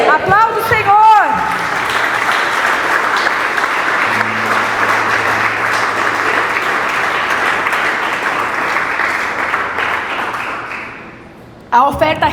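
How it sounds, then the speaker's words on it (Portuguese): A church congregation applauding during a worship service, sustained dense clapping for about eleven seconds that fades out toward the end, with a voice briefly audible at the start. "Aplauda o Senhor."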